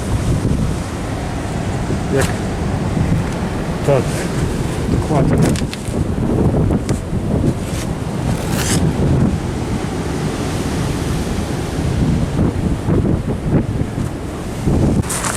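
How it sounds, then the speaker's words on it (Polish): Strong wind buffeting the microphone outdoors among seaside rocks near crashing surf, with brief speech in Polish from a couple of people under the gusts. "chronimy się przed wiatrem tutaj"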